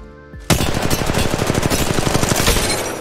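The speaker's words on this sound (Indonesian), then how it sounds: "Sekarang kita lompat sambil nembak," Rapid automatic gunfire from Apex Legends Mobile while the player character jumps, a loud continuous burst of evenly spaced shots starting abruptly and running without pause to the end.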